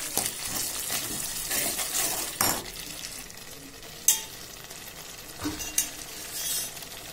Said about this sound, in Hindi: मसाला पक रहा है